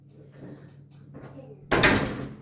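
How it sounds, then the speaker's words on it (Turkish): An indoor door swings shut with a single sharp thud that closes a short stretch of quiet household talk. "Şunu ört kapıyı ört."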